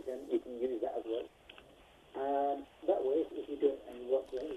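A caller's TV audio comes muffled over a phone line, thin and tinny voices with a brief steady tone in the middle, sounding distant and compressed.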